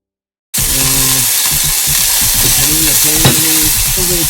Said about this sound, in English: Only flipping over the chicken once again.